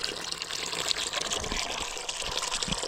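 Clean water flows steadily from a village water tank, a continuous broadband rushing gush held at an even level throughout, close by with no talk over it.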